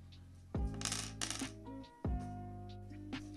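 Metal bolts for a 3D-printed headstrap clink as they are handled, with a few sharp jangling bursts close by and a short pause between them.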